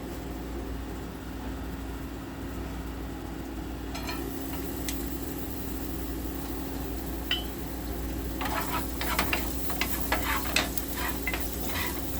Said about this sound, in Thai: ตอนนี้ก็จะมาผัดไข่ก่อนนะคะ